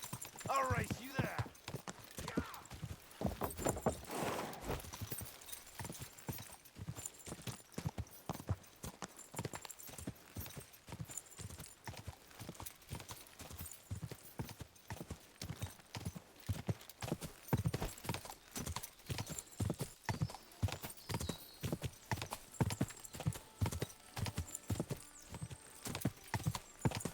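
Horses galloping in the medieval game Kingdom Come Deliverance 2: a steady, rapid drumming of hooves for a long stretch, with an occasional whinny and voices speaking.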